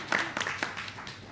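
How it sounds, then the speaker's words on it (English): Brief, fairly faint applause from people at a FIDE World Cup chess event, a few scattered claps fading quickly, with a voice audible alongside. "Let's give a round of applause"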